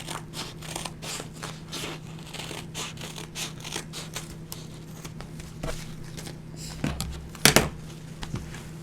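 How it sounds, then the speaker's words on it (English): Scissors snip and crunch through Dollar Tree bags while a Christmas stocking is made. The cuts come as close, soft crackly strokes in an uneven rhythm, with a couple of sharper rustles near the end. "So I'm just going to take my scissors and cut."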